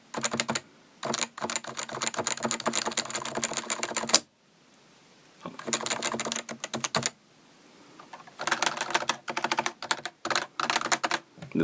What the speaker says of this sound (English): it's a snap or a rattle sound that you get, depending on how you're typing from stock NovaTouch